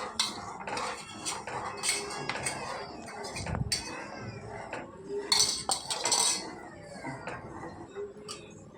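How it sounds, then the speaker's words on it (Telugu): A spoon clinks and scrapes against a pan while sugar syrup for Mysore pak is stirred, giving irregular close metallic taps and rattles at a moderate level with no talking. "ఇక్కడ పాకం తిప్పుకుంటూ ఉందాం"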